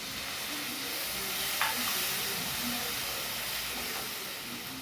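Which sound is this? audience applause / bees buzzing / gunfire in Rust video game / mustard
mustard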